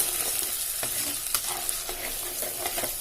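Ground onion and tomato paste sautés in oil with spices for a yam curry, a close, steady sizzle broken by repeated scraping strokes of a stirring spoon.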